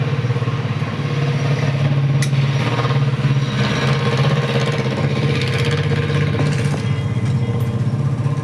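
A freshly repaired motorcycle engine idling close by, a steady loud mid-pitched thrum with light mechanical clatter running throughout.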